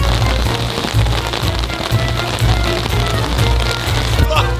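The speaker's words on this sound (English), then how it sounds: "It's raining so much." Heavy rain pours down outdoors while traveling in Europe, a dense, loud, continuous patter with drops hitting a nearby surface, and a person's voice briefly audible underneath.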